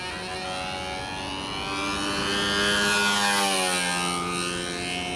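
A rebuilt Strega model airplane on its first flight gives a steady, whining engine drone whose pitch sweeps up then down as it passes, swelling louder midway and fading slightly, heard alone without talk.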